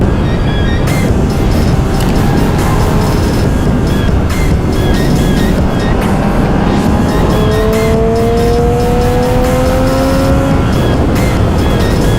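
A 2014 Triumph Street Triple 675R motorcycle howls at high revs around 9,000 to 10,000 rpm, a loud, sustained engine roar whose pitch climbs steadily near the end, heard up close and alone.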